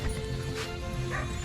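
Kanni and Chippiparai hunting dogs barking and yipping, several short overlapping barks and whimpers close by over a steady background hum.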